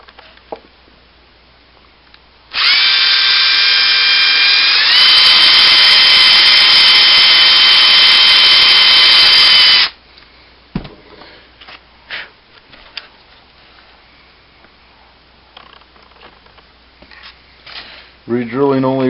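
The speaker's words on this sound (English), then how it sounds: "I'm going to re-drill one." A power drill whines loudly and steadily for several seconds re-drilling a hinge hole, its pitch shifting slightly, followed by quieter tapping and handling noises.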